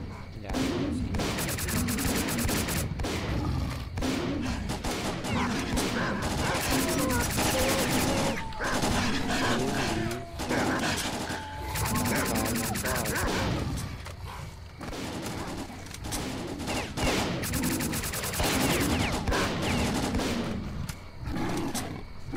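Rapid bursts of automatic gunfire from the shooter game S.T.A.L.K.E.R.: Clear Sky come in repeated, loud volleys against roaring mutants, with brief pauses between bursts and occasional talk underneath.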